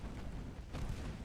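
A torpedo detonates against a warship in the naval strategy game Ultimate Admiral Dreadnoughts, a deep rumbling boom that swells and rolls on without a break, loud and dense, with no voices.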